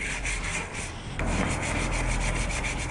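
Steady hand sanding of wooden furniture, a continuous abrasive rubbing swish that grows a little louder partway through, close and with no voices.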